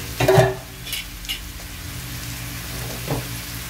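Chopsuey vegetables stirred in a frying pan, a steady soft sizzle under a few scraping spatula strokes, the loudest at the start, close up with no talk.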